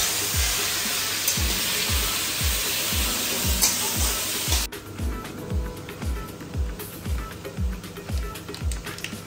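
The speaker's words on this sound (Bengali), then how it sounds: "তার জন্য কিছুটা হলেও চিকেনটাও দিয়ে দেবো।" Chicken frying in a pan for a Thai red curry, a steady close hiss of sizzling with regular rhythmic knocks of stirring that continue after the hiss drops away midway.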